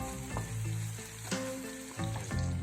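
Egg dish sizzles steadily in a hot pan on a gas stove, close and continuous, with a few soft clinks and shifts as it cooks.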